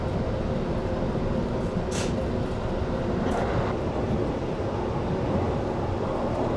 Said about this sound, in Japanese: 今戸塚駅を通過しております